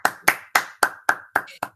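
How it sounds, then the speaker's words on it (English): Seven distinct hand claps ring out at an even, deliberate rhythm, close and clear with short decays, as a final round for the Norristown Players at an evening drama club performance. "let's give one final round of applause to the Norristown Players"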